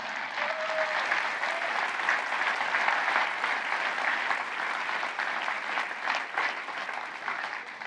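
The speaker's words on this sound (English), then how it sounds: "I think that deserves a round of applause" An audience at an annual meeting of the Clinton Global Initiative bursts into sustained applause, dense clapping rising and falling steadily for several seconds with no voices heard above it.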